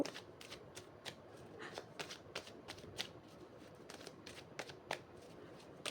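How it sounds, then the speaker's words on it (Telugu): A deck of tarot cards is shuffled close up and softly, with quick riffling bursts repeating in a steady rhythm for about six seconds and no talk. "కార్డ్స్ షఫుల్ చేసేంత సేపు"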